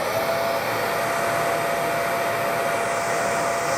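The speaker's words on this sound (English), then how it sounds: "So if we start out putting this vacuum on low," A Milwaukee M18 FUEL 9-gallon dual-battery wet/dry vacuum running on its low setting, giving a steady, even motor whine and airy rush, close and continuous without change or talk.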